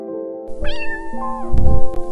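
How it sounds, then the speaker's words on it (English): A cat gives one clear, drawn-out meow, loud and close, over a light musical backing. "Cat."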